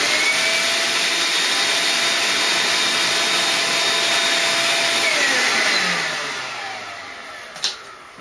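Shop vac fitted with an Oneida Dust Deputy cyclone separator, running with a loud, steady roaring whine, then slowly spinning down and fading near the end with a brief knock.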